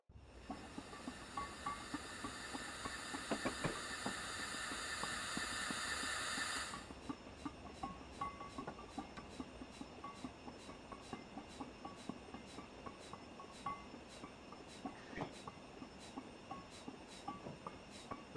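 A BR 4F Fowler steam locomotive in Train Simulator 2016 braking, with a steady loud hiss of air or steam that cuts off after several seconds, leaving soft, regular wheel clicks on the rails.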